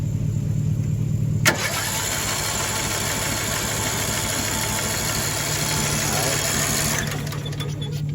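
A cheap lawn mower engine, primed with starting fluid, is cranked after a sharp click, churning steadily and close for about five seconds, with a person talking nearby.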